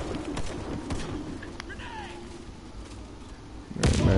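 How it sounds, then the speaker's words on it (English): A grenade goes off in the shooter game War Face: one loud, close blast lands near the end, after a stretch of quieter ambience with bird calls and scattered distant shots. "Grenade out."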